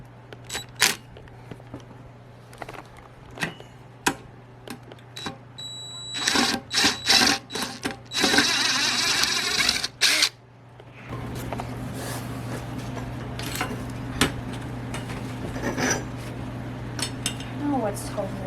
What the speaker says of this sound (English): Now I'm gonna take this screw out.